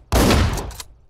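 Gunfire in the video game Hotline Miami 2 comes as one loud, close burst of rapid shots lasting under a second before cutting off.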